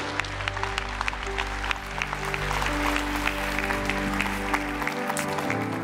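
Church congregation clapping during worship, a dense patter of hand claps spread across the room over sustained band or organ music playing underneath.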